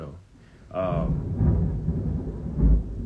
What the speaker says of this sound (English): I don't know if y'all can actually hear that thunder.